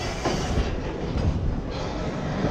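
A train from Raxaul, India runs along a railway track, its steady rumble and faint clickety-clack of wagon wheels filling the air close by with no voices.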